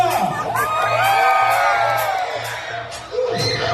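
A crowd whoops and cheers loudly, high excited voices rising together over a low steady hum, with a brief dip near the end before shouting resumes.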